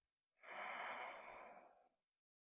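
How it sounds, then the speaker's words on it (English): A single long Ujjayi breath drawn through the nose during a calm wall yoga session, a soft, airy, slightly throaty hiss that swells quickly, holds steady for about a second and a half, then fades out, heard close and alone. "Starting to incorporate Ujjayi breathing, breathing in through the nose"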